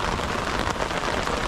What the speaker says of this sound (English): downpour now with a bit of a rolling thunder